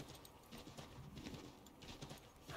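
Horse hooves clip-clop steadily and fairly close while riding through snow in Assassin's Creed 3, a continuous trotting rhythm with faint game ambience behind it.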